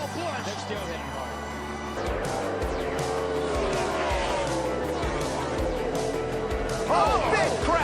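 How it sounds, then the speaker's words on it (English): NASCAR race cars roar through turn two amid a big crash, a continuous loud engine drone with skidding tire squeal rising toward the end. "Oh, big crash in turn number 2, David Ruderman."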